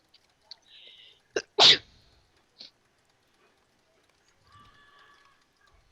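A character in the online game The Lord of the Rings Online gives one loud, sharp sneeze near the middle, with faint game chimes and tones before and after, and no talking.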